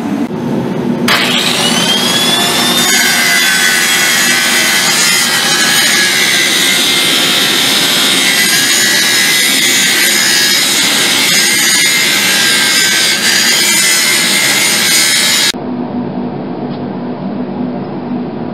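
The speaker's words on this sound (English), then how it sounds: "that's grinding in the the cut under the hammer" An angle grinder cuts the slot under the hammer poll of a hand-forged tomahawk head, a loud continuous high whine with a sustained rough edge. It starts abruptly and stops near the end, leaving a quieter hum.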